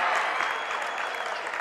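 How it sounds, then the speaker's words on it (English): A high school boys basketball crowd in a gym applauds a made free throw, steady dense clapping at moderate distance, with no clear voices. "Listen to the crowd."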